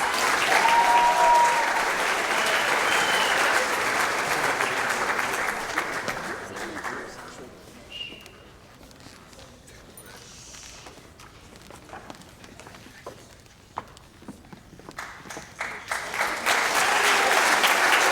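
Loud audience applause at a sports awards ceremony, fading to a quieter stretch with scattered claps midway before swelling back to full strength near the end.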